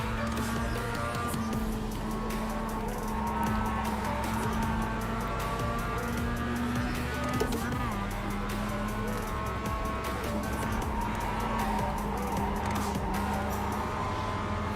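Mazda MX-5 race cars in an iRacing Class D online race, engines droning steadily at high revs with tire squeal and shifting pitch as cars bunch together, continuous and fairly loud throughout.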